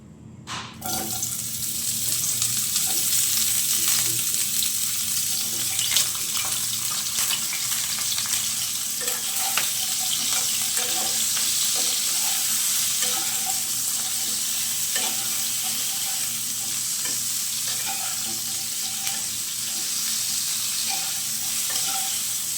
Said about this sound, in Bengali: এখন আমি ফুলকপিগুলো একটু ভেজে নেব